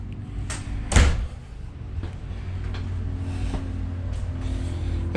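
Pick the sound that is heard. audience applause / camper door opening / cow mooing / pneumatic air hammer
camper door opening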